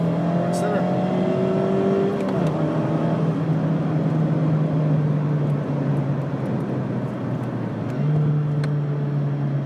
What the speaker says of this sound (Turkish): yarış arabası gibi ya.